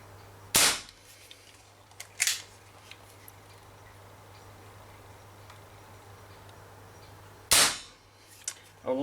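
Three sharp shots from an Umarex Marlin air revolver, two close together near the start and a third after a long pause, each a loud crisp crack standing alone over a quiet background hum.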